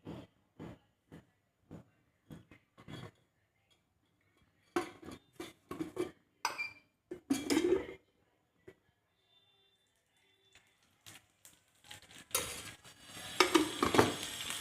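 Wood apple chutney ingredients (chillies, fennel and cumin) roasting in a little oil, heard as irregular bursts of spoon stirring and scraping against the pan with a faint sizzle between quiet gaps.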